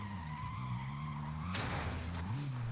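Car skidding with tire squeal in the video game Warzone, a steady engine drone with a loud rough skid burst midway, played under game ambience.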